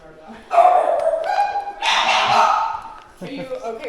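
A small French bulldog barks and yips indoors, close and loud, in short excited bursts over a few seconds, with people talking nearby.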